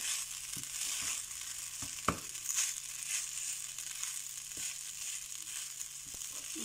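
Rice frying in a pan as it is browned, with a steady broadband sizzle and several sharp scraping clicks of the stirring utensil at intervals, no talk.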